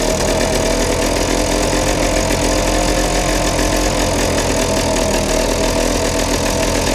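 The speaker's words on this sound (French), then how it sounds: "Et voilà, ça tourne. Le Solex Micron a repris forme." Small engine of a restored Solex Micron moped idling cold just after its first start, a loud, close, steady buzzing drone running throughout without pause.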